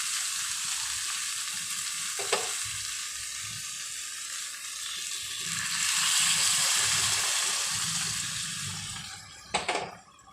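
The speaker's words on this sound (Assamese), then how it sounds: "অলপ যিহেতু 2-3 মিনিটমান ভজাৰ পাছত আকৌ মাংসটো অলপ লাগি ধৰা দেখুৱা হৈছে তেতিয়া গৰম পানীটো অলপ দি দিওঁ" Mutton fries in a pan with a steady, close sizzle that swells as hot water is added, broken by a couple of brief clanks of utensils.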